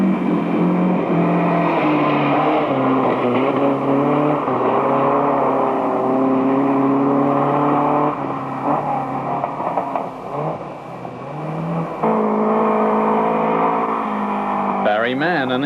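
Datsun rally car racing in the 1984 NSW Rally Championship, its engine loud and close with a sustained high revving whine, shifting pitch through gear changes and briefly easing before surging again.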